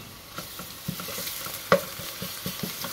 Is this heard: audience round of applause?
no